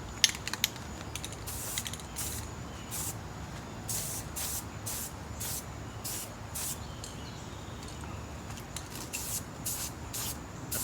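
A rattle can of spray paint hisses in repeated short bursts while coating a battle rifle. The sprays come close and steady with brief pauses between passes, and no one speaks.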